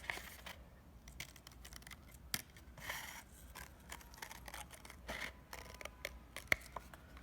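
Quiet, steady snipping of scissors cutting a paper circle, with short rasping cuts and soft rubbing between them, close by with no talk.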